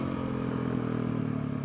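A KTM 690 Enduro R single-cylinder motorcycle pulls under acceleration with a steady, moderately loud engine drone and wind rumble throughout a short stretch.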